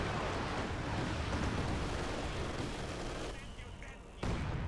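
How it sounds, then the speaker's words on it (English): Werfer rocket artillery strike in Company of Heroes 2 during a 4v4 match on Lanzerath Ambush, a loud sustained barrage of overlapping blasts and gunfire that dips briefly near the end before surging back. "Werfer's coming in anyway,"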